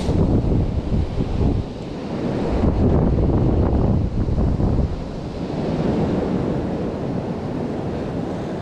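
Incoming tide waves washing onto a black sand beach in Iceland, a steady roar of surf mixed with heavy wind buffeting the microphone, loud and continuous with no talking.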